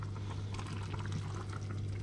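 Water mixed with cornstarch pours in a soft, continuous stream into boiling goose gravy, with a steady low hum running underneath the whole time.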